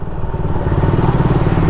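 Carbureted Raider 150 motorcycle engine droning steadily at close range during a ride, with a constant buzzing hum and no pauses across the short stretch.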